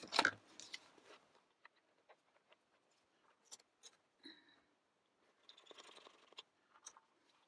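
Scissors snip through paper while a die-cut doodle image is trimmed for a craft project: one sharp, close cut at the start, then sparse, quiet snips and rustles spread across the rest with pauses between.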